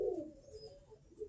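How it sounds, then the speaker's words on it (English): Birmingham Roller pigeons give a single soft, faint coo at the start, followed by a quiet backyard hush. "They be in their backyard flying pigeons."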